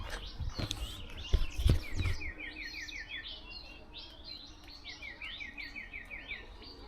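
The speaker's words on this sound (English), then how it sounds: "let's just try to listen to the birds here." Weaver birds singing outdoors in a quiet, well-off neighborhood, with a few thumps and knocks at first, then steady bursts of repeated chirping notes and busy twittering, moderately close, with faint insect buzz beneath.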